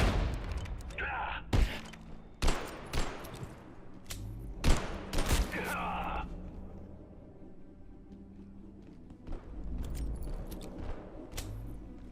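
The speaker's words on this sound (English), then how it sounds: "Stop shooting my shit! Stop shooting my table!" Gunfire in the video game Abiotic Factor comes as a burst of sharp, close shots with rapid cracks in the first half, then fades into rumbling background noise as a voice talks over it.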